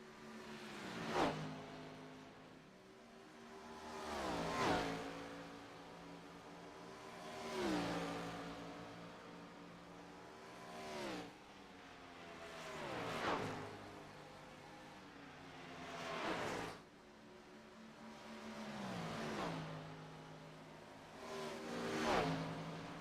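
Race cars lap Homestead-Miami Speedway in iRacing, engines rising and falling in a repeating pattern as each car screams past, roughly every three seconds over a steady background drone.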